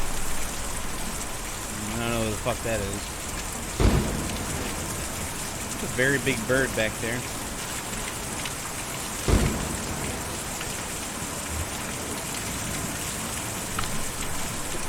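Rain in Kentucky Route Zero falls in a steady hiss throughout, broken by two sharp thunder cracks, while someone talks over the storm.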